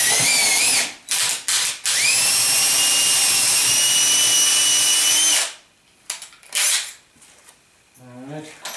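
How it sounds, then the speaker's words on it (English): A power drill bores a pilot hole for a clock screw, a loud steady whine lasting several seconds after a few brief starts, then stopping, followed by quieter handling clicks and a short burst of speech. "for the larger screw, you will probably need to pre-drill a drill bit about that size"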